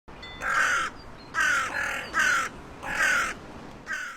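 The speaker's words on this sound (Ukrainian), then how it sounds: "Всім знайоме каркання ворон." A crow caws loudly and close, five harsh calls in an uneven rhythm with short pauses between them, outdoors with light background noise.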